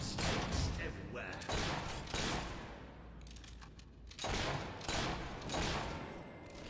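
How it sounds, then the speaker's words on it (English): Gunfire in the Fable 3 video game, bursts of shots and thuds arriving in several loud waves, layered under game voices and talk throughout. "Keep up that shooting and we'll be rid of them in no time."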